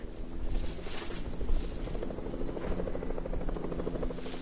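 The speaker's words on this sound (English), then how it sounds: "No, but I hear a helicopter." A helicopter in the video game Fortnite, a steady, close rotor whir and mechanical buzz that holds loud and even throughout.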